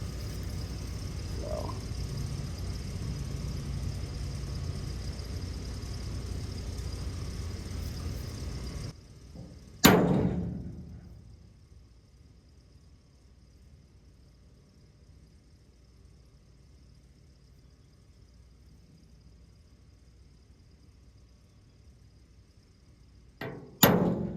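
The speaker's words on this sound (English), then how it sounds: "So go get a hammer real quick and we'll get that done." A hammer drives a large punch into the steel body of a 1963 Chevrolet C10 pickup to make a taillight hole, with one loud ringing strike that fades slowly and another strike at the end, following a stretch of steady background hum.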